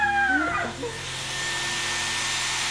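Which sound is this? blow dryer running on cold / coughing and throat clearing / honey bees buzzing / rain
blow dryer running on cold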